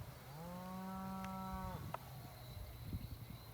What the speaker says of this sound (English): You can hear the cows out here grazing.